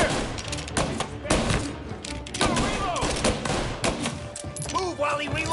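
Gunfire rattles through a shootout in the video game Mafia: Definitive Edition, dense bursts and single shots overlapping continuously with thuds, while shouted voices cut in over the firefight.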